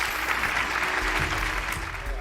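A studio audience at a televised health talk show claps steadily for about two seconds, a dense even patter with no voices over it.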